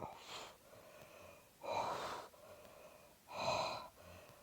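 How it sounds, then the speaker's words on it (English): Three strong, forceful exhales through the mouth during an intermediate Pilates reformer workout with hand weights, evenly spaced about every one and a half seconds with quiet breathing between, close and clear. "Exhale it out."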